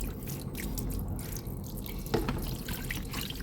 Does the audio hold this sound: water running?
yes